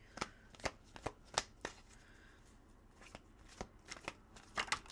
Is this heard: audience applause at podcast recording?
no